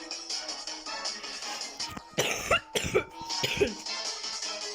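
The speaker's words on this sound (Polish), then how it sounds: "u mnie kaszel napada" A person coughs several times in a short harsh burst partway through, over a quiet steady background hum.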